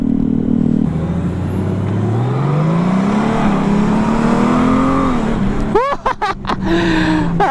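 A 2019 Honda Gold Wing Tour DCT 1800 cc touring motorcycle engine drones steadily while riding, its pitch rising under acceleration, then a brief burst of revving near the end; continuous and close.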